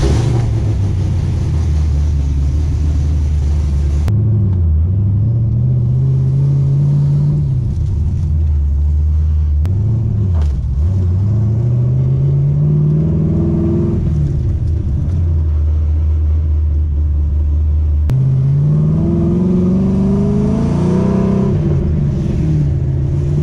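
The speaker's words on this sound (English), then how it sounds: "this will be the first time that I've driven the car with the LS in it" A Nissan 350Z fitted with an LS V8 engine accelerates hard on a test drive, its loud, deep engine note climbing through the gears with rising and falling revs and a brief drop between shifts.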